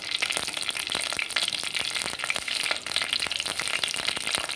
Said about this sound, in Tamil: நல்லா பொறிஞ்சி வருது